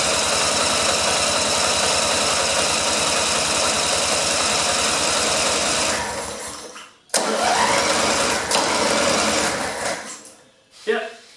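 A lawn mower with a kill wire disconnected is started and runs: a loud, rapid chugging engine clatter that holds steady, then sputters and dies, briefly catches again and fades out.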